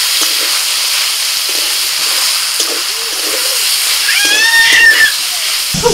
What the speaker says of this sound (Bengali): এবার আমি চিকেনটাকে একটুখানি ফ্রাই করে নেব।